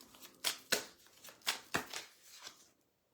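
Oracle love cards are drawn and shuffled from a deck, a series of about seven crisp, quiet riffling flicks at uneven intervals, close up, trailing off into silence, with no talking.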